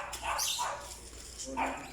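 Dog barks on a street in the early morning, a few short yips and barks at moderate distance mixed with faint background voices and ambient noise.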